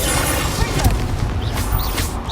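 Bombarda explosion spell cast in the Hogwarts Legacy video game: a dense, loud burst of booming, crackling blast noise that fills the whole moment, with repeated thumping impacts and no speech.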